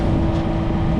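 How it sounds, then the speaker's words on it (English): A sailboat's engine running while motoring across the sound, a loud continuous low rumbling drone with no pauses or talk. "we fired up the engine"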